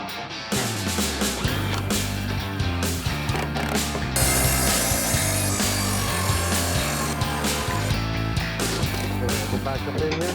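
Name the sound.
power saw cutting wood sheets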